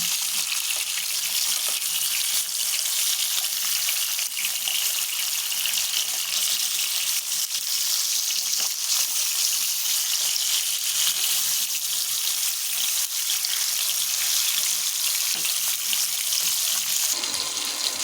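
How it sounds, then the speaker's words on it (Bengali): Pieces of rohu fish frying in hot oil, a constant loud crackling sizzle that holds steady throughout with no talk. "মাছগুলোকে লাল লাল করে ভেজে নেবো"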